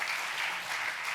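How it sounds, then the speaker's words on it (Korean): Audience applause for middle school students at an event, a short burst of dense clapping heard close and fairly loud, with no talk over it. "우리 축하 격려의 박수 부탁합니다"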